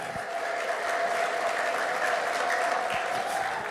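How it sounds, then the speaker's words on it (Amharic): Worshippers at an Ethiopian evangelical church service applaud in a dense, continuous roar of clapping, with a steady high trilling tone of ululation running through it, sustained and fairly loud throughout. "ለዚህ ጌታ እልልታና ጭብጨባ።"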